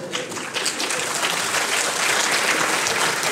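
An audience applauds at a meeting with animator Mike Hollingsworth, a dense, steady wash of clapping that holds loud throughout.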